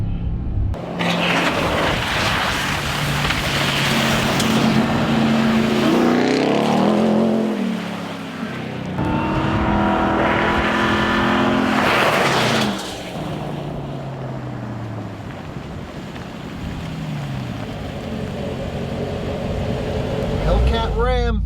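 A Ram TRX pickup truck engine roars loud and near, revving up and down through hard acceleration in first gear, with a voice talking over it at times.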